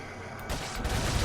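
A gunshot in Resident Evil 4 bursts out as a loud, broad blast that swells into a dense, rumbling roar and holds through the rest of the moment.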